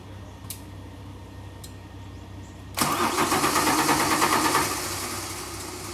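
A 1992 Ford Falcon EB engine cranks over, a loud, close, rhythmic churning that begins abruptly after a few quiet ticks and then eases into a steadier rumble.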